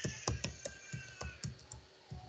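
Keys are struck on a computer keyboard while an IP address is typed in, a quick, light, uneven run of close clicks with no voice over them.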